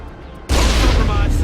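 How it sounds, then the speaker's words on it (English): Spaceship in Mass Effect taking gunfire hits: a quiet lead-in, then a sudden loud, dense roar of impacts and rumbling blasts that holds steadily to the end. "Under fire. Hull compromise. Taking hits. We're hit!"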